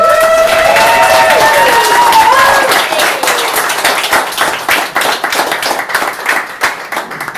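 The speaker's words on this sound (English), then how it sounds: "please give a huge round of applause" Audience applause at a creative writing reading night builds into a loud, close clatter of many hands while voices trail off early, then the clapping thins into scattered, uneven claps that fade out.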